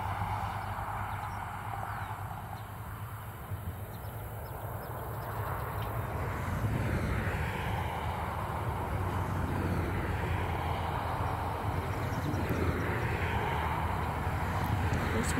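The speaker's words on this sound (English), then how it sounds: "How much the tractor actually struggles up those hills." A farm tractor engine labours while hauling up hills during a late first-cut hay harvest on a sheep farm, a steady low drone that grows slightly louder partway through, heard from a distance.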